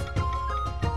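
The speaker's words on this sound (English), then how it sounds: "The real siku flute playing sounds like this." A siku pan flute sounds a brief, breathy sustained tone with soft pulses of air, quiet and alone.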